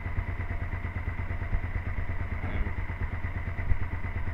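A 2002 Suzuki SV650 that has trouble staying running idles up close with a low, throbbing rumble and slight mechanical clatter, steady over a few seconds with small surges.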